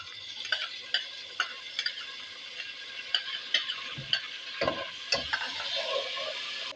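Cumin seeds sizzling in hot oil in a pan while being stirred, with a run of soft clicks and scrapes and a louder burst as ginger garlic paste goes in near the end, close and moderately quiet, with no talking.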